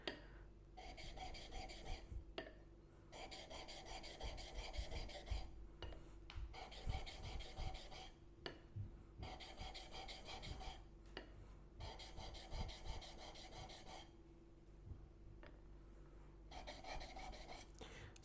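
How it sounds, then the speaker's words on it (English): A blade bevel is drawn back and forth across a 600 grit whetstone, giving a rhythmic rasping scrape in long strokes with brief pauses between runs, close and moderately loud, with no talking. "you can really see quickly how much material this stone's taking off. So this is a 600 grit."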